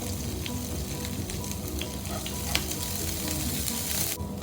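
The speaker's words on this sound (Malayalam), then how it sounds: "ഇനി ഇതിലോട്ട് ഒരു 3-4 ചെറിയുള്ളി അരിഞ്ഞതും 4-5 പച്ചമുളക് അരിഞ്ഞതും കൂടി ഇട്ട് ഒന്ന് വഴറ്റിയെടുക്കാം" Chopped shallots and green chillies sauté in oil for a drumstick thoran, making a continuous, moderately quiet crackling sizzle with a sharp stir or scrape partway through. No one speaks.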